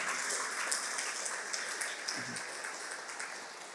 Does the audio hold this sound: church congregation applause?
yes